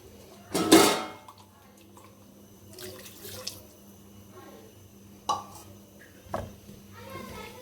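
Yogurt, onion and green chili paste thinned with a little water is poured into a pot of chicken for korma, giving a brief wet splash and slosh, followed by a few faint scrapes and clinks in a quiet kitchen.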